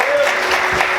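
Congregation clapping in church, a short burst of dense applause with voices mixed in.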